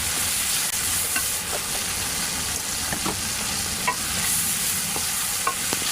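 Potatoes fry in a spice masala for aloo matar pulao while a spoon stirs them, making a steady close sizzle with light scraping strokes throughout and no voices.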